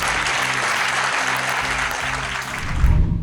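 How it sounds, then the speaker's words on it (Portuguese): Audience applause at a live investment podcast event, a dense steady wash of clapping from a crowd that carries on for about three seconds with a slight swell near the end. "vamos só dar uma salva de palmas aí, né?"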